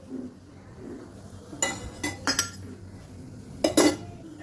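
A metal measuring spoon clinks a few times against a pan or bottle as oil is poured for a bitter gourd stir-fry, giving short bright taps in two small clusters over a quiet kitchen background.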